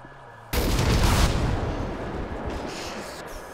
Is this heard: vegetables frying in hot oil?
no